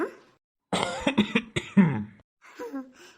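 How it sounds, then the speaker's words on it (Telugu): A man coughs in a quick string of harsh, close bursts over about a second and a half, followed after a pause by a short stretch of voice. "నాకు దగ్గులేసింది అందుకే దగ్గుతున్నా"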